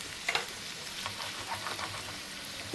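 A spoonful each of coriander seeds, cumin and mustard seeds with a little fenugreek fry in a pan for a ground chutney, giving a close, even hiss of sizzling with faint scattered pops throughout.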